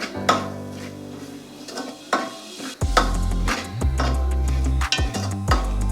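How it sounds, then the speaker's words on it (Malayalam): Something is stirred and dry-roasted over a low flame in a pan, the scrape of the stirring sounding close and steady throughout, with sharper clinks now and then and a low rumble under it from about the third second on. The dish being made is pumpkin. "നന്നായിട്ട് ഇളക്കി അടി പിടിക്കാതെ വറുത്തെടുക്കാം."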